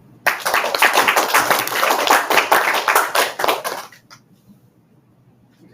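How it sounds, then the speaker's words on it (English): A small group, likely children, claps loudly and a bit unevenly after a presentation, about four seconds of close hand clapping that stops abruptly and leaves near silence. "please clap very loudly"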